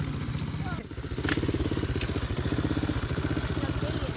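A motorbike engine idles close by with a steady low, pulsing throb that continues throughout, briefly dipping before returning stronger.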